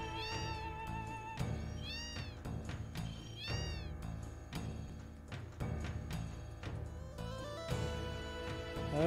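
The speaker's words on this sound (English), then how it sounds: "Cats everywhere." Cats in Final Fantasy VII (PS1/PS4) meow repeatedly in short, rising calls, several in a row and close up, layered over steady game music with no talking.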